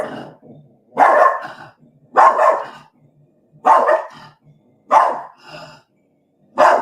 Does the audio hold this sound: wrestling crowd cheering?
no